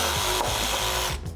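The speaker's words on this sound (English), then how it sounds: "I finished the notch cut with my jigsaw" A jigsaw cuts a notch into a wooden workbench base, giving a steady, close buzzing drone with a few small shifts in pitch as the blade works, and the motor dropping away near the end.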